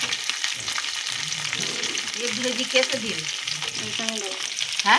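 Onion and capsicum tossed into hot oil already holding garlic and green chilli sizzle and crackle steadily in a pan, with stirring scrapes throughout and a faint tonal background underneath.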